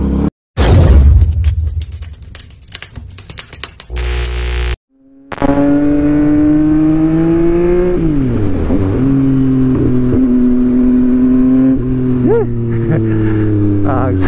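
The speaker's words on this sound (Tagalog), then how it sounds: "Ang sarap magmotor muli." A Yamaha MT-09 motorcycle engine drones while riding on a short Sunday ride, its pitch rising and dipping through gear changes, loud and close after a few seconds of rough wind and handling noise.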